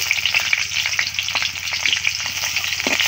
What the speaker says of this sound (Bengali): আমি এই তেলেই কিন্তু পেঁয়াজটা দিয়ে দিচ্ছি।